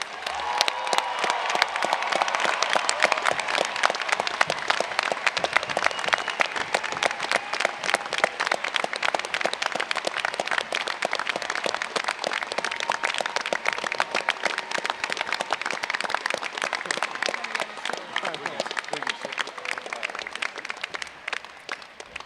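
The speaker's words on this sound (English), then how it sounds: "Please join me in a round of applause for these amazing graduates." A large audience at a high school graduation ceremony in an arena applauds the graduates, a long, loud, sustained roar of many clapping hands that stays dense and even for over twenty seconds.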